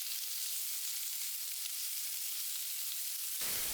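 Duck meat frying fat-side down in a hot, dry Teflon pan with no added oil, giving a steady close-up hiss of sizzling fat that swells louder near the end.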